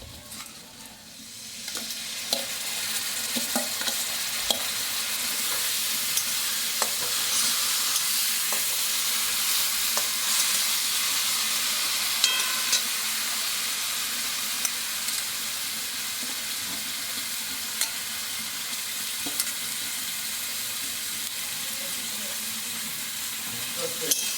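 Washed, pre-fried dal stirred into a hot pan for a home-style veg dal, giving a steady broad sizzle with scattered scraping clicks of the spoon, close and continuous throughout.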